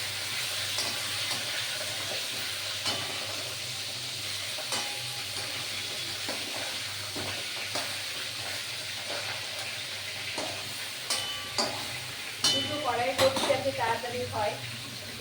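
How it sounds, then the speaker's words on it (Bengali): A fish head fries in oil in a pan, making a soft, continuous sizzle with stirring and scraping clicks that grow busier near the end, while a voice speaks quietly over it. "আমি এখানে মাছের মাথাটা ভাজ ধরে নিচ্ছি"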